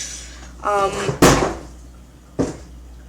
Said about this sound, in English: My cat just knocked down the box.